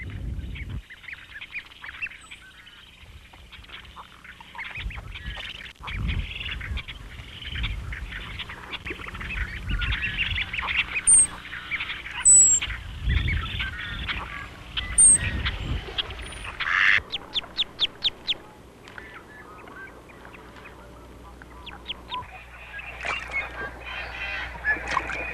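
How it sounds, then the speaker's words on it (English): Ducks and geese honk and quack throughout a Canadian wetland with nesting islands, a busy overlapping chorus of near and distant calls with bursts of louder honking and no speech. "they also built a number of nesting islands to provide some safe areas for birds to nest"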